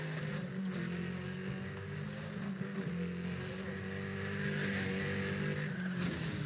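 A car drifts through a race stage in Need For Speed: The Run, its engine roaring steadily while sliding tires squeal in wavering high whines over continuous road and motor noise.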